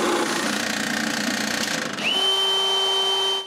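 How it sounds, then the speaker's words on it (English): A power drill bores holes from the front of a wooden box faceplate for 12-volt appliances. A steady whirring grind shifts partway through to a higher, even whine that holds until it cuts off. "Now I need to drill the holes from the front."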